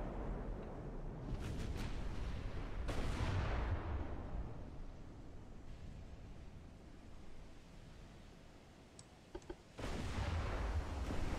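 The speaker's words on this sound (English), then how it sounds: "We got to turn so we can get that rear turret firing as well." Heavy naval turret guns boom in the warship game Ultimate Admiral: Dreadnoughts, with a few loud blasts rolling into a long rumbling sea-battle wash and another sharp volley near the end.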